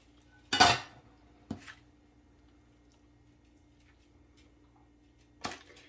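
Shrimp tip into a bowl of shrimp dip, and a utensil folds them in. A sharp clatter against the dish comes first, then a softer knock and a later clink, all near and quiet against a low background hum.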